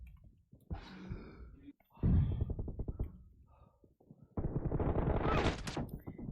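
M4 rifle gunfire in a first-person shooter video game: loud bursts of rapid automatic shots, one short volley followed by a longer sustained burst, with clicks and breathy sounds between them.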